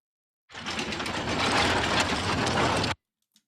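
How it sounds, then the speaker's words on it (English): Gear-and-crank sound effect suggesting warehouse machinery, a dense grinding, clattering mechanical texture that starts abruptly, runs steadily for about two and a half seconds and cuts off sharply into silence. "this is a gear and kind of crank sound effect that you would hear in a warehouse"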